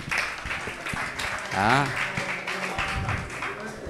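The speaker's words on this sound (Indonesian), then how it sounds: "kasih tepuk tangan sebagai bentuk apresiasi" A religious study audience gives a round of clapping in appreciation during a lecture on logic from the Kitab Ummul Barohin. The scattered, fairly faint claps blend with a voice calling out over them.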